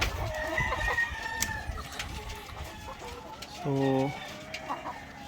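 A rooster crows once, loud and drawn out, amid scattered clucking from laying hens and faint background chatter from a farmyard.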